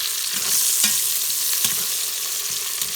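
Onions fry until reddish in a pan for paneer dum biryani, a loud close sizzle with a few scraping stirs and spoon taps.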